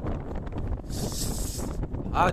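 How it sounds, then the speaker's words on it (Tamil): Cool wind blowing across a hill road near Salem, a steady rushing buffet against the microphone with a brief brighter gust, faint voices murmuring underneath. "சில் சில் சில்னு காத்தடிக்குது."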